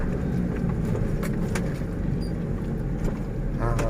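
A car accelerating gently in second gear during a driving lesson ahead of a bridge climb, a steady low engine drone with road rumble filling the cabin and a few faint clicks.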